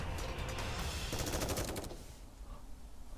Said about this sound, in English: The sound effects of gunshots